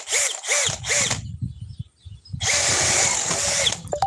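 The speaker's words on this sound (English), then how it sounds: "This is the drill driver with the rigid tablet cell battery." A cordless drill whirs in short bursts, stopping and starting, then runs steadily for a longer stretch close by.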